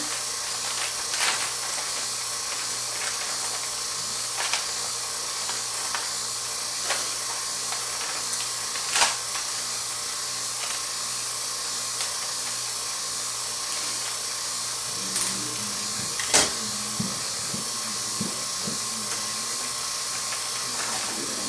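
A small power cutting tool whines steadily while cutting vacuum ports into a composite beam layup in a manufacturing lab, a continuous hissing, high drone with faint scattered clicks and brief louder spikes.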